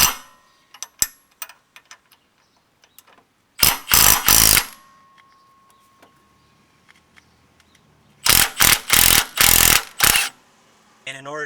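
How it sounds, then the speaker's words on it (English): Ratcheting wrench work on the upper control arm bolts of a Jeep Gladiator during a leveling kit install, with light metallic ticks and clicks early, then two loud bursts of rapid ratchet clicking, close and without talk. "next I'm going to go ahead and loosen up the upper control arm bolts here"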